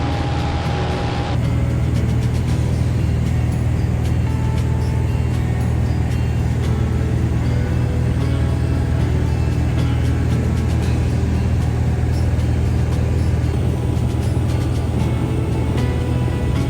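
A Cessna Skyhawk light aircraft in flight gives a loud, steady engine drone and propeller hum that continues unbroken throughout, with a brief faint tone near the start.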